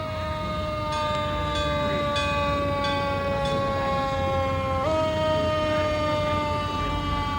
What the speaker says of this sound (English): It's a 58 Mack fire truck.